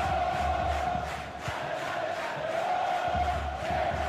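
A football stadium crowd in the FIFA 22 video game roars and chants in a steady, swelling wall of noise, loud and continuous with rhythmic surges.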